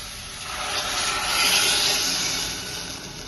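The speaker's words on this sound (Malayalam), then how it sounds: "ഇനി വെള്ളം ഒഴിക്കാം" A steady broadband rush of water pouring into a pan of pea curry, swelling slightly in the middle and easing off, with no talking.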